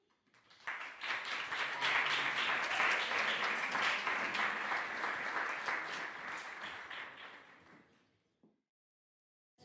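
An audience applauds a Galician traditional music group at a Lisbon event. Steady, full clapping swells in quickly, holds for several seconds, then thins and fades to silence.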